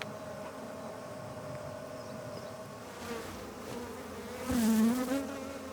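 Honeybees buzz around a backyard beehive in Galilee, a steady, fairly faint drone that swells louder near the end as bees pass close by.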